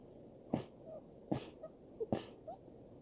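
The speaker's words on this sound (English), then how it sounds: "And here's a few sneezes for you." Three sharp sneezes come in a quick, evenly spaced series, each close and loud, with small breaths and snuffles between them.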